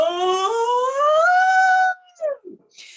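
A person does a vocal warm-up, sustaining a high, slightly rising tone before sliding down, then a few short lower glides and breathy fragments close by.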